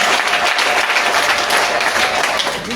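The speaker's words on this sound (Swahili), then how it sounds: "Si tunaweza pigia Bwana wetu makofi tena." A church congregation applauding during a service, dense continuous clapping from many hands filling the room at steady volume.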